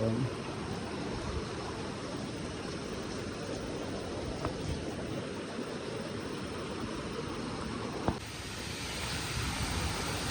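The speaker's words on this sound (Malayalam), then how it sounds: "അവിടെ വെള്ളച്ചാട്ടം ഉണ്ട്." A waterfall in Meghalaya pours with a steady, even broadband rush. It sounds fairly faint and somewhat distant, holding constant with only a couple of small knocks.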